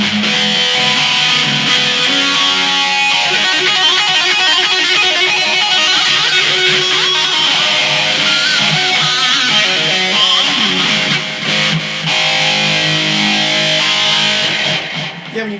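An electric guitar runs through a Boss eBand JS-10 digital delay set to mimic tape echo, giving a loud, sustained, distorted 70s-style tone with repeating echoes. It plays alone with no talking.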